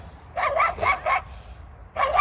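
Several sharp dog barks in a quick burst, a short pause, then another bark, fairly close and loud.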